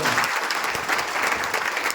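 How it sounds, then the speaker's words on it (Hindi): Applause from an audience at a talk on financial markets and cryptocurrency, a dense, steady clapping held evenly for a couple of seconds with no voices over it. "एक बार जोरदार ताली होना चाहिए मार्केट में"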